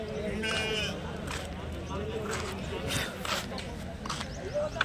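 Sheep bleat at a large livestock market in Kadiri, Andhra Pradesh, with several wavering cries rising over a dense crowd of talking voices and general market bustle throughout.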